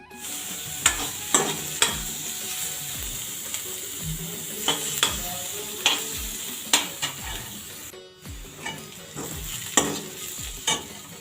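Sarai boda mushrooms stir-frying in a pan, a constant sizzle broken by a regular run of scraping spatula strokes and knocks against the metal, with no one speaking.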